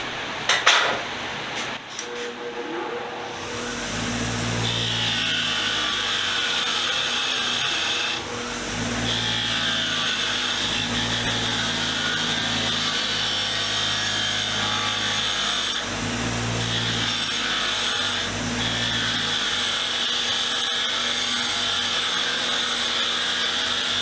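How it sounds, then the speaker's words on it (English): A spinning wire wheel grinds against rusty hand tools with peeling chrome, producing a steady, loud, scratchy whir with a continuous motor hum. Several brief dips occur as the workpiece is lifted off and pressed back against the wheel. "I say we throw this stuff on the wire wheel."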